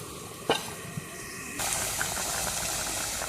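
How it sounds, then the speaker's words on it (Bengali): Vegetarian potato curry heats in a pot and comes to a boil, giving a soft hiss and bubbling that grows suddenly louder and fuller partway through, with a brief clatter near the start. "তরকারিটা ফুটে গেছে"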